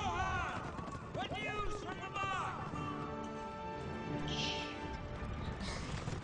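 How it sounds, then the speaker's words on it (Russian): Horse hooves clip-clop at a running pace in the video game Lego Lord of the Rings, mixed with in-game effects and voices throughout. "Лошадь такая."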